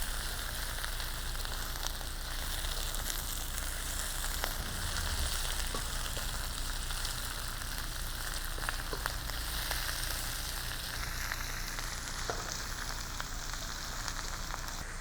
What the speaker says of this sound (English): Now I want to add my bok choy, which also cooks super quick.